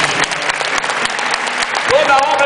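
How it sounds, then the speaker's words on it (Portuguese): A crowd at a church crusade service claps in a burst of applause with sharp individual claps, while a voice speaks over it near the end. "Quem pode aplaudir a Jesus?"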